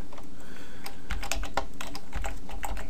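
Rapid typing on a computer keyboard, close and clear, with dense irregular keystrokes and a few heavier key thumps, no voices.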